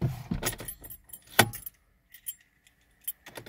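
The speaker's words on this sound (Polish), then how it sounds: "Wsadzamy ponownie kluczyk." An Audi-group car key with its bunch of keys jangles and clicks as it goes into the ignition, a close, crisp metallic rattle peaking sharply near the middle, then a few faint clicks in a quiet cabin.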